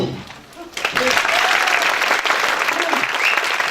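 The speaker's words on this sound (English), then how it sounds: "can we have a practice clap first?" Audience at a North East spring expo session breaks into loud practice applause after a brief quiet start, steady crowd clapping filling the rest of the moment.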